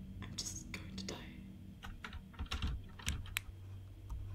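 A typing machine in the video game Thoughtform Invasion, irregular clacking keystrokes in short bursts, close and moderately loud, with low murmured speech underneath.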